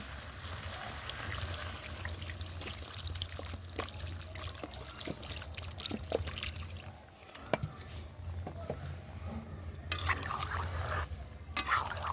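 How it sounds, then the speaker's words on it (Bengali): Water is poured into a pan of Bengali chicken kosha once the spiced chicken has finished cooking down, giving a faint trickle against a quiet kitchen background, with occasional soft clinks and high chirps. "এবার এর মধ্যে জল দিয়ে দেবো।"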